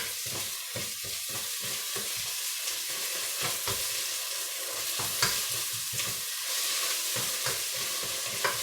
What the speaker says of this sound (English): So we've got 3 spoons of tomato paste. We're just going to cook that through.